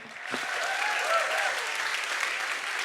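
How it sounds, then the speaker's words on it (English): A science slam audience breaks into warm applause to welcome two presenters on stage. The clapping swells quickly after a brief opening and stays loud and dense throughout, with the faint murmur of the crowd beneath it. "Now please welcome with a warm applause Tobias and Johannes."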